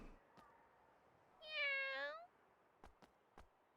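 A cat meows once in the video game Megaton Musashi W: Wired, a clear drawn-out mew standing alone over quiet background, followed by a few soft clicks.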